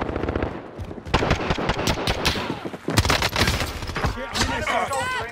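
Rapid automatic gunfire from a first-person shooter video game, dense overlapping bursts and single shots, loud and close, with voices faintly mixed in.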